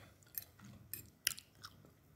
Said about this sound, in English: the onion is just giving this crunchy kind of vibe. These crunchy onions.